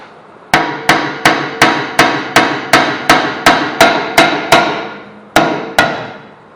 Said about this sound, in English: So we're going to have to hit this a little bit.